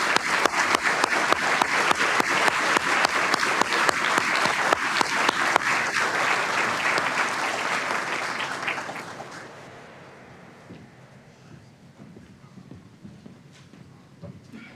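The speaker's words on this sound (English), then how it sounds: "Please give them a round of applause for all of their hard work and dedication." Loud, sustained applause from a graduation audience honoring fire department instructors at a Madison Fire Department recruit class ceremony, dense clapping for about nine seconds before tapering off to a faint room murmur.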